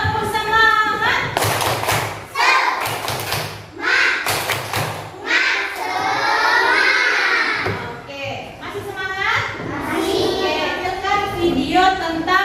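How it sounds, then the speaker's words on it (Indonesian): A classroom of children doing a rhythmic cheer clap: bursts of sharp, loud group clapping in a patterned beat, mixed with children chanting and calling out together. "Coba tepuk semangat dulu kita ya."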